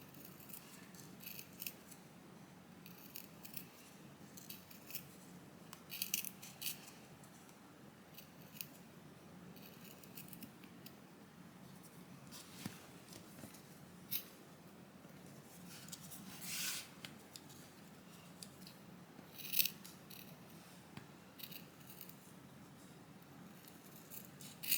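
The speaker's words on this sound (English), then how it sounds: "Let's cut the feet out as well." Scissors snipping out felt feet for a unicorn marabou feltie Alice band, with quiet intermittent cuts and rustling, close but faint, no speech.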